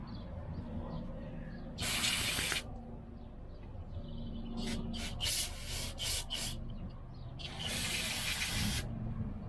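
Cleaner sprayed onto a riding lawn mower's carburetor parts during a no-start repair: one long hissing burst, a quick run of short spurts, then another long spray. All are close and loud over a faint background, with no talking.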